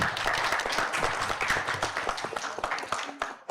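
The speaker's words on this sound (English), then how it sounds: "Let us give them big round of applause." Dense audience applause for dignitaries at a live workshop, a steady wash of many hands clapping with sharp individual claps standing out, holding loud for about three seconds before tapering off at the end.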